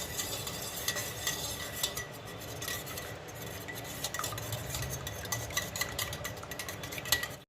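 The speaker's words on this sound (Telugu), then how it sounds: "అలా ఇప్పుడైతే మనం మిక్స్ చేసుకుందాం" Egg whites being stirred in a bowl with a utensil for a fluffy sponge omelette, a steady scraping and clinking of metal against dish running throughout, close and fairly loud with no talking.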